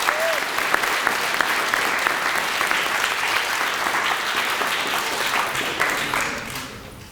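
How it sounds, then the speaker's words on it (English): School event audience giving sustained applause, a full, even wash of many people clapping in a hall that gradually fades toward the end, with some crowd noise mixed in. "Let's give him a round of applause."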